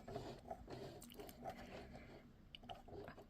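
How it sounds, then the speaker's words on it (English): Singer Heavy Duty 4432 sewing machine worked slowly by hand crank, producing quiet, rhythmic mechanical clicks and ticking of the gears, close and faint. "I'm going to do it by hand using the hand crank"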